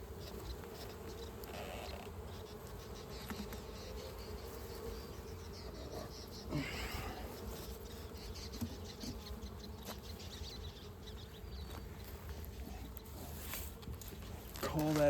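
Honeybees hum steadily around an open hive box, a dense, continuous buzz close by that holds its level throughout, with occasional faint handling noises and muffled voices in the background.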